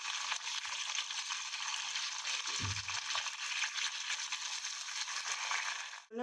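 Tomatoes and gongura leaves drop into hot tempering oil for a catering-style pachadi, setting off a steady, even sizzle that carries throughout, with a brief clatter partway through.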